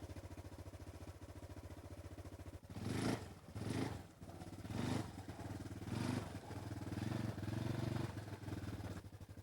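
1985 Yamaha Tri Moto three-wheeler riding off-road, a steady low engine thrum that swells as it accelerates, with rougher rising surges, then eases as it brakes to a stop.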